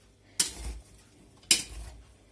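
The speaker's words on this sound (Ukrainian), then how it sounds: "Ось так от перемішаємо гарненько." Cucumber salad is mixed in a large bowl, two sharp utensil clacks against the bowl about a second apart, each followed by a short soft rustle of the vegetables, close and quiet with no talk.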